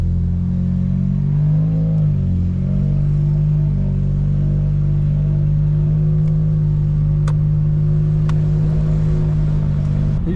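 A 2017 Lexus IS200t engine hums steadily from inside the cabin after an 8-speed transmission replacement, rising slightly as the car accelerates and cruises, with faint clicks and rattles.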